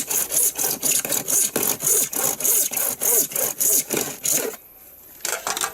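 A hand saw cuts through the last small section of wood for a wildlife bird hide window opening, giving a loud, close, rhythmic run of push-pull strokes that stops briefly before a couple more strokes.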